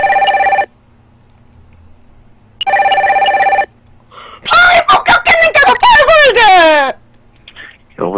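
A telephone rings just before a call is answered, two loud electronic bursts of ringing separated by near silence, then a loud, warbling, rooster-like crowing call.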